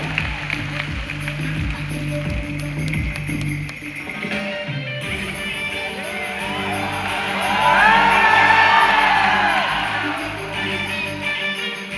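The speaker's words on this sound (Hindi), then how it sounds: "जोरदार तालियों से स्वागत करिए डॉक्टर अजय अनुराग सर का" A crowd at a meeting in Allahabad erupts in loud applause, whoops and cheers for a teacher's welcome, sustained across the whole stretch and swelling louder toward the end.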